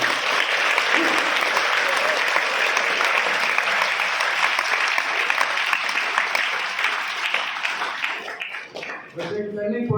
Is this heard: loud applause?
yes